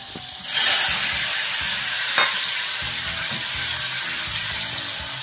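Dry salted fish frying in a pan gives a loud, continuous close sizzle with a steady crackling hiss throughout and no voices.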